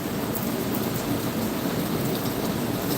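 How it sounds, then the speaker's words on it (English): Steady, dense rain hisses close by in a garden with a low rumbling underneath, like a storm outdoors, continuous and fairly loud. "I'm outdoors. It's raining."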